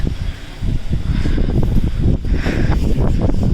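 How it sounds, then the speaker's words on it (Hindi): Loud wind buffeting the microphone in strong gusts near Tabo monastery in winter Spiti, with rumbling roar and some rustling throughout. "बहुत ही तेज़ हवा चल रही है।"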